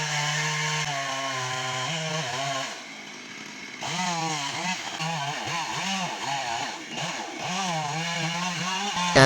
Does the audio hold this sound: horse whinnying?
no